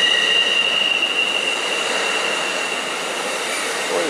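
An Amtrak train rolls past at trackside with a steady rushing roar and a high, sustained wheel squeal that fades midway, fairly close, no speech.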